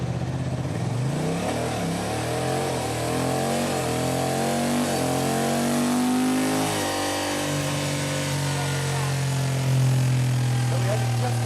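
A Honda motorcycle with a dual-clutch transmission accelerates hard toward 95 mph, its engine note climbing steadily through the gears with distinct shift drops, loud and close over continuous wind rush.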